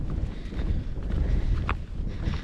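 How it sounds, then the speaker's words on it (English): Wind gusts buffet the microphone on a mountain hiking trail in the Dolly Sods Wilderness, a steady, close, low roar that swells and dips without any talking. "It's pretty windy up here,"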